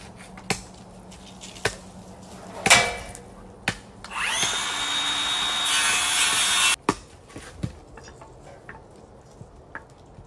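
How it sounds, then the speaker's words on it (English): A circular skill saw cuts through wood outdoors, a loud whining rip lasting under three seconds amid scattered knocks and clunks of handling lumber. "Let's try with your skill saw."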